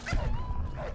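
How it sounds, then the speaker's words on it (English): Dogs yelping and barking in the Fallout: New Vegas video game, a quick burst of short whimpering yips close by, brief and moderately loud. "Oh, the dogs."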